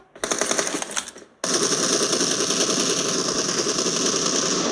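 Automatic gunfire in the mobile battle game PUBG Mobile, with a rapid burst that cuts off and then a loud, continuous stream of fire carrying on to the end.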